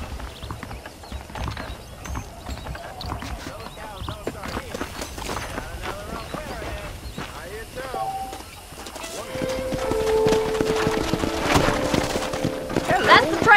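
Saddled horses clip-clop in the Western video game Red Dead Redemption, with rhythmic hoof beats under ongoing game speech and background sounds that grow louder near the end.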